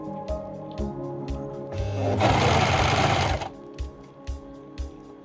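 Sewing machine stitching fabric for baby pants with straps: short intermittent needle bursts, then a loud continuous run of about a second and a half, then more brief stitching pulses, close up with no talking.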